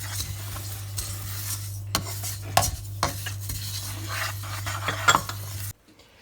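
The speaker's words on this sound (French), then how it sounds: "Là, on peut torréfier tout ça." A Thermomix TM6 roasting and stirring zamita ingredients, a steady motor hum under a continuous gritty rustle with scattered clinks and knocks, then the machine cuts off abruptly near the end.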